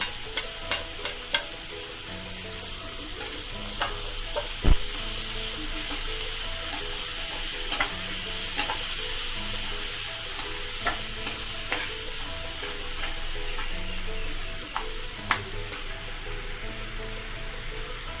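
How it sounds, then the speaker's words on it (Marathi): Tomatoes frying in a pan until soft, a long steady sizzle with frequent utensil scrapes and taps against the pan, close and without talk. "टॅमॅटो पण चांगले नरम होईपर्यंत भाजून घ्यायचे."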